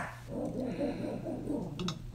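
A dog growls low and rumbling in a steady run of short pulses, close by and fairly quiet, with no talking.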